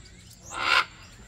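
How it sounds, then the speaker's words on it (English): Bird call from a caged bird at a zoo in Trinidad: a single short, raspy squawk lasting about a quarter second, fairly close and clear over a quiet background. "Beautiful, majestic birds. I love these birds."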